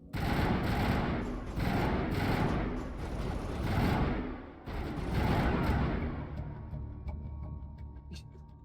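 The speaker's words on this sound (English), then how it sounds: "Open fire. Open fire!" Heavy sustained gunfire fills a Mass Effect firefight, dense automatic bursts rolling continuously with brief dips, loud and close, then thinning into scattered, sharper shots near the end.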